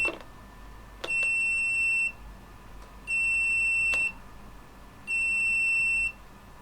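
An electronic buzzer driven by an ESP32 microcontroller beeps three times, each tone lasting about a second with a second of quiet between, loud and shrill against faint background hum.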